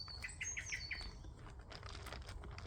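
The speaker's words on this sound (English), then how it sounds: "Every time that blackbird comes out, this time of day, I think, isn't it?" A blackbird sings a few bright, short whistled notes at the start, followed by soft rustling and flutter-like patter nearby.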